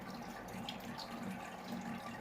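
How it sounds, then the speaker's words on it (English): Water draining through a Grainfather brewing system, a faint, steady trickling wash with soft splashes, continuous and quiet. "I've got our water draining through now."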